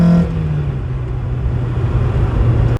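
Mazda Miata with a swapped VQ engine and individual throttle bodies, revving loud and close with a sustained engine drone that rises briefly, holds, then cuts off abruptly at the end.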